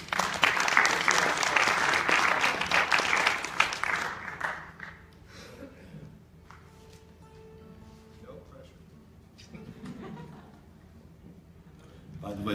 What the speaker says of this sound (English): A round of applause one more time for Mr. Ruggiero.